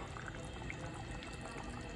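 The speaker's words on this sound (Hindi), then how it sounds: "पानी हमारा बॉईल होना शुरू हो गया है" Water in a cooking pot for chicken curry is just starting to boil. It makes a soft, steady bubbling hiss at low volume, with no talking.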